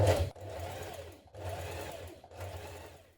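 A sewing machine stitches in the ditch along a trouser waistband, running in three steady bursts of rapid, close mechanical whirring with brief pauses between them. No one speaks.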